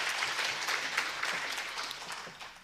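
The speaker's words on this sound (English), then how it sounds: "Can I have a big round of applause?" A women's training event audience applauding, a dense, even wash of many hands clapping, slowly tapering off, without speech.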